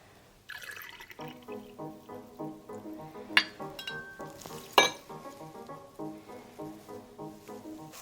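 Le Beach House White Spice white rum poured from a bottle for a mojito, a quiet, close, rhythmic glugging into a glass with a couple of sharp clinks.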